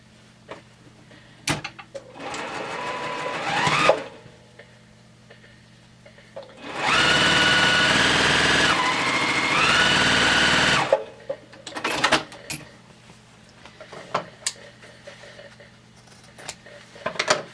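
A sewing machine runs straight stitches through quilt block fabric, several short bursts and one longer steady run of whirring, with small clicks and handling noises between.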